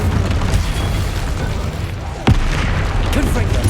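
An Incendio fire spell cast in Hogwarts Legacy during busy combat: one sudden whooshing boom cuts through a steady wall of game noise and effects partway through.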